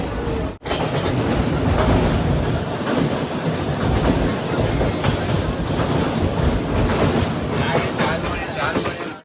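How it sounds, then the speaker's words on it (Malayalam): A train rumbles loudly and steadily with clattering wheels as it arrives at Kumarghat station, Tripura, a brief dropout near the start, with voices faintly mixed in. "ട്രെയിൻ ഇപ്പോൾ കുമാർഘട്ട് സ്റ്റേഷനിലേക്ക് ഇതാ"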